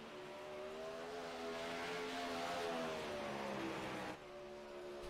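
Engines of 360 winged sprint cars racing on dirt in a racing video game, a steady layered roar of several cars droning together, one pitch dropping briefly near the end.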